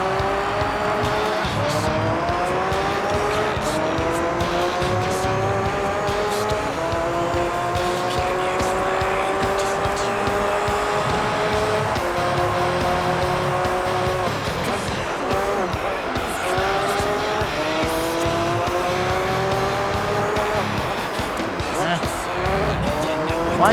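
A Toyota race car in Gran Turismo 3, its engine rising through repeated upshifts with rhythmic climbing pitch, plus bursts of tire squeal, loud and continuous, with a voice talking over it.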